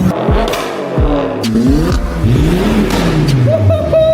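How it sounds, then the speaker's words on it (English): A Mark II Ford Fiesta with a full custom exhaust is revved repeatedly, giving several sharp rising and falling engine blips with raspy exhaust crackle, loud and nearby. "Mark II Fiesta. Full custom exhaust. Let's do it. It absolutely rips."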